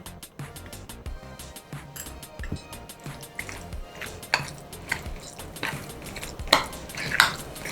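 Hot tempering is poured into a cabbage salad (pachadi), giving soft drips and liquid splashes with scattered clinks of a spoon and dishes, growing a little louder toward the end.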